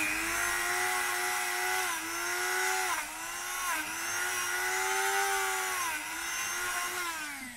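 A power tool with a brush attachment whines steadily while cleaning an oxidised Mazda Miata wheel rim, its pitch dipping and rising repeatedly as pressure changes, loud and close with no talk.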